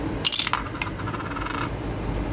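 Dice rattle and tumble across a hard surface in a quick clattering burst, short sharp clicks near the start fading into lighter scattered rolling, close and alone in a quiet room.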